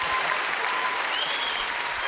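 Steady applause from an audience at a live bass-singing gospel group performance, dense clapping filling the whole stretch without pause.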